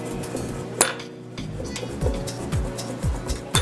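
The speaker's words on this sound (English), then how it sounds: "And I'll just mix it just a little bit." A spoon clinks and taps against a bowl while stirring yeast into warm water, giving a few sharp irregular knocks over a low background hum, close by.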